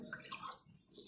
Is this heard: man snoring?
no